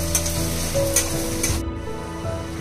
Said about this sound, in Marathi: कांदा चांगला भाजून